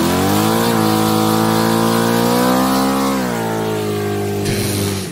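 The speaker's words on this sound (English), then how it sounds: "Is there a car coming? There's a car coming." A car engine drones loudly and close with a steady harmonic tone, rising slightly in pitch and then falling away as the vehicle passes on the road, no talk over it.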